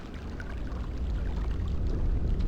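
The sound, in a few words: water rippling down in Myst video game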